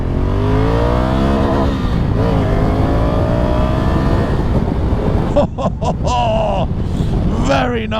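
A Honda CRF 1100L Africa Twin motorcycle engine roars loudly and continuously, its pitch climbing through the gears with brief dips at shifts, while a rider talks over it.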